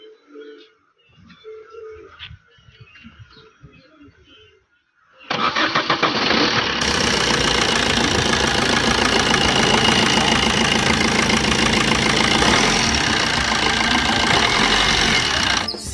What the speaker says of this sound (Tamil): இப்போ வண்டி ஸ்டார்ட் பண்ண சொல்கிறேன் பாருங்கள்.